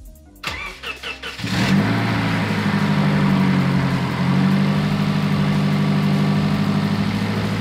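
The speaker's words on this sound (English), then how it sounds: "We're going to fire this thing up and see if it sounds any different and if it's running any better." Subaru with an automatic transmission and fresh spark plugs, heard as a few quick cranking bursts, then the engine catching and settling into a steady, loud idle nearby, with no voices.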